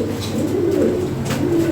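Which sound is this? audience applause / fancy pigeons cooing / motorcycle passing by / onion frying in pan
fancy pigeons cooing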